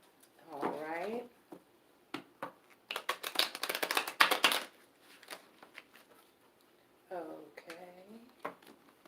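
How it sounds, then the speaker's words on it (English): Tarot cards being shuffled during a live reading, a dense run of crisp riffling clicks in the middle, with someone talking before and after. "Who am I shuffling for?"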